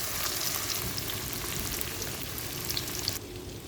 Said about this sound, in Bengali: এখানে আমি পেঁয়াজটা বেরেস্তা করে নেব।